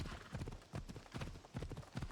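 A horse trots in Assassin's Creed Odyssey, steady clip-clop hoofbeats in a quick, even rhythm, close and clear, with no talk over them.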